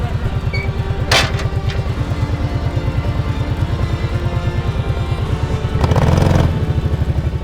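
An ATV engine idling and revving as it drives up ramps onto the back of a truck on a homestead, a loud, close, steady chugging with a brief clatter and a rising rev near the end.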